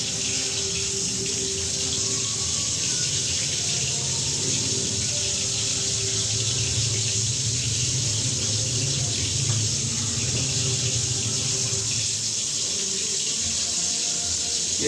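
Fish fries in hot oil in a pan, a steady, dense sizzle that holds evenly for about fifteen seconds, close and fairly loud, with no talk.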